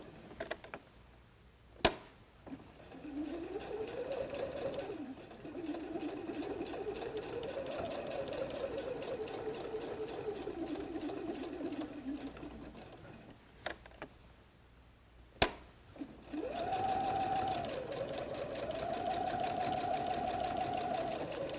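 A sewing machine stitches a messenger bag, running in steady whirring bursts of a few seconds each, with short pauses and sharp clicks between runs as the fabric is pivoted and back-stitched.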